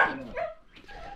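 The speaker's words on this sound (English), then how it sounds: "sorry for the dog" A dog barks and yips close by in one short burst, followed by a brief whimpering tail-off, with no voices over it.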